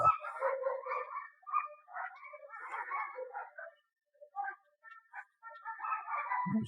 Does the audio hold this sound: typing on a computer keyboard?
no